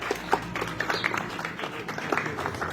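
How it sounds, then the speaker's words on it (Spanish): A small crowd applauds at a writers' marathon book presentation in Coyoacán, with scattered, moderately close claps running steadily through a soft background murmur. "Se vale aplaudir."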